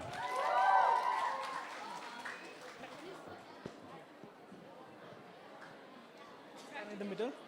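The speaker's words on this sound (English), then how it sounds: "Come on, cheer for her." An audience at an intercollegiate cosplay festival claps and cheers for a participant on stage, a brief swell of applause at the start that fades into crowd murmur and voices talking over a PA.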